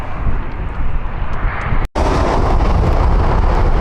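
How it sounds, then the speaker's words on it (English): An airplane coming in to land at Malaga airport passes close and loud, its jet roar filling the air with a broad rushing rumble and one sudden momentary dropout partway through. "Oh, got a plane coming in,"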